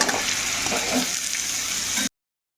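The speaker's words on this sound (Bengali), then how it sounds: "এখন কিন্তু আলুগুলো একটু ভালো করে সুন্দর করে এই তেলে দিয়ে ভেজে নেব" Potatoes fry in hot oil in a pan, giving a steady, close, broadband sizzle that cuts off abruptly into silence near the end.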